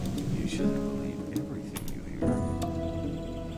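Steady rain from the video game Gothic hisses continuously, with a low rumble of thunder, while game music plays underneath.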